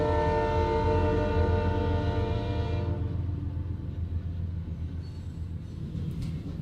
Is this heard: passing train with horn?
yes